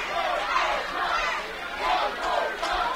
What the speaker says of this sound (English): They're chanting one more time.